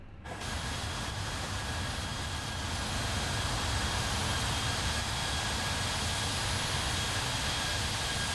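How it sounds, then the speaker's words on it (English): A Jet2 Holidays airliner landing in Microsoft Flight Simulator, a loud, steady, continuous jet engine roar with broadband rushing noise, unbroken throughout with no talk. "Hey, Jet2 Holidays just landed next to us."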